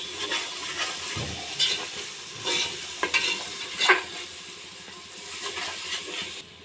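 Goat head curry with ginger-garlic paste being stirred in a frying pan: a continuous close sizzle broken by several scraping spoon strokes across the pan, with no talking.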